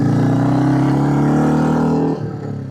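A Royal Enfield Classic 350 motorcycle pulling out of a tight hairpin in first gear, its single-cylinder engine droning loud and close with a rising pitch, then easing off abruptly near the end.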